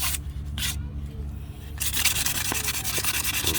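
A 2004 Acura TL 8.5-inch wheel being hand-sanded with 120 or 80 grit sandpaper, a close, loud rhythmic rubbing and scraping that pauses briefly before resuming in quick, even strokes.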